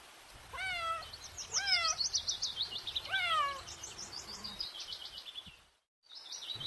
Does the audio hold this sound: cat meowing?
yes